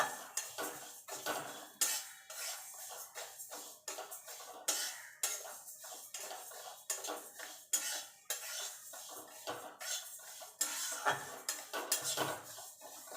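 Moong dal dry-roasting in a pan over low to medium gas, stirred with a utensil that scrapes and clinks against the metal in a steady, irregular rhythm, close and moderately loud with no talking.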